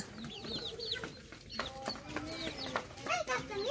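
A farm flock of chicks, native hens and Sonali hens gives off overlapping nearby clucks and high, thin peeping chirps in a busy, irregular chatter, with human voices present in the background.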